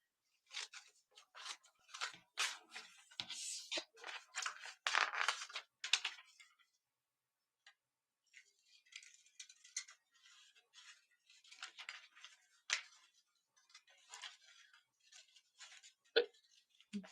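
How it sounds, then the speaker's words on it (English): Scissors snip through paper quilt templates in a quiet sewing room, a run of close, crisp cuts, a pause of a second or two, then another stretch of irregular snipping. "scissors."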